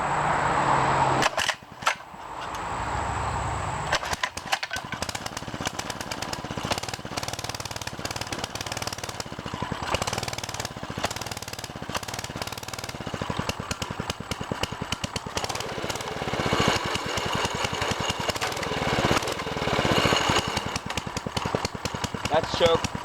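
A small mini bike engine, started on full choke, pops and sputters in rapid irregular bursts after a few pulls, then settles into a rough, rattling idle; people talk over it at times.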